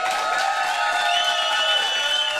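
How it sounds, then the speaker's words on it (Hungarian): Studio audience at the close of a Hungarian TV talk show breaks into sustained applause and cheering, a dense, steady crowd noise at even loudness throughout, with faint voices mixed in. "Nagy tapsot Valko Esztinek, Kabát Petinek, Hajdú Petinek és Dombinak."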